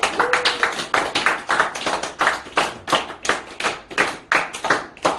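Audience at a healing-health instructor seminar claps in unison, sharp rhythmic bursts grouped into short two-beat and single-beat patterns, loud and close with brief gaps between groups.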